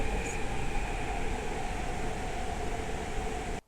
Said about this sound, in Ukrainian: Так метро виглядає. То наша Варшава